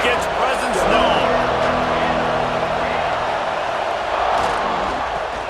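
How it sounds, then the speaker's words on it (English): Stadium crowd noise in the College Football 26 game, a broad, continuous roar of spectators under a commentator's voice, swelling slightly and staying steady throughout. "This crowd ready to make its presence known."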